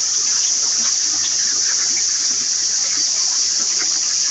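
Water trickles and flows steadily through gravel-filled grow beds of a backyard aquaponics system planted with Brazilian spinach and onions, a continuous close, even wash with no voices.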